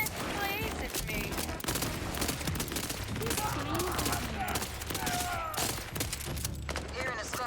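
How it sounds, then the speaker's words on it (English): Dense video game gunfire plays as a continuous crackle of rapid shots and bursts, mixed with music, effects and voices throughout, loud and busy. "Open fire!"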